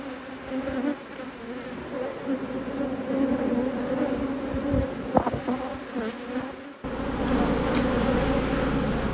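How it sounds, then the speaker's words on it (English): Honey bees swarm around an open hive during an inspection, a dense, continuous close buzzing drone that stays loud and steady with faint handling noises underneath. "I don't know if you can tell, but the bees are quite feisty"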